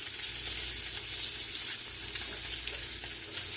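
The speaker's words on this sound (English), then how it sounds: "We're trying to sear it around the sides now." Pork roast searing in a hot pan, a steady, loud, continuous sizzle with dense crackling and no pauses or voices.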